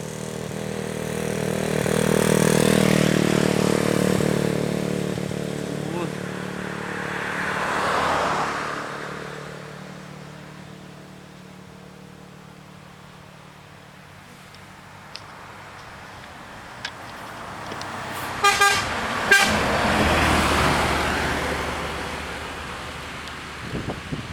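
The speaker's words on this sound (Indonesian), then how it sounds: "selanjutnya ada bus NPM ya, Sultan Class yang akan berangkat pada pagi ini jam 11 pagi" NPM Sultan Class coach bus pulling away, its engine rumbling loudly and fading, followed a bit later by a burst of short horn blasts, with no talk over it.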